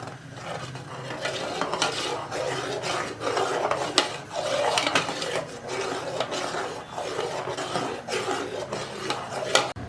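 Milk being stirred in a pot for rasgulla, with a spoon scraping and rubbing against the pot in steady, repeated strokes, close up, with no talking.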